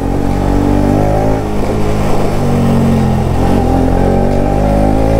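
A cold Bajaj Pulsar RS200 motorcycle fitted with a new performance spark plug revs hard in first gear, a loud, close, continuous engine drone with a steady throaty rumble throughout.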